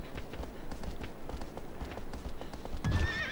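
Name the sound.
horse Agro neighing and hooves, video game Shadow of the Colossus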